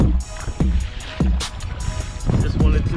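Trident 13 kayak paddled offshore on the ocean in Hawaii, with rhythmic paddle strokes and water splashes against the hull at close range.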